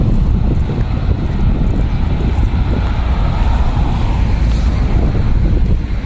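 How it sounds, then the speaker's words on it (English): A loud, steady rushing roar of a Shinkansen train passing Shin-Onomichi station fills the air, mixed with wind buffeting the microphone. "one of the trains just cruised by the station."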